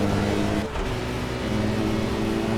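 BMW M1 Procar race car in the Project CARS racing game, engine revving hard through a throttle blip on a downshift, loud and close, with a brief dip before the rev picks back up.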